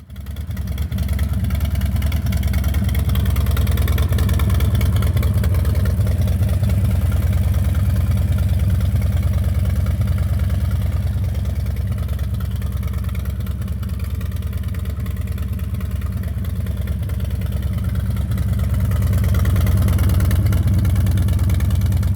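A Harley-Davidson Low Rider S with a newly installed TBR exhaust idles close up with a deep, steady rumble that holds constant throughout, loud and unbroken, with no voices.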